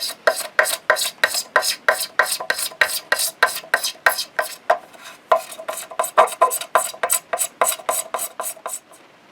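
Rhythmic scraping strokes strip red paint from a 1976 Fender Stratocaster guitar body, about twenty evenly spaced rasping passes, close and fairly loud, with a brief pause midway and no talking.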